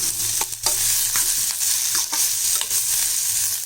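Onions and tomatoes sizzle and fry in a pan, with occasional scraping stirs of a spoon cutting through the steady hiss.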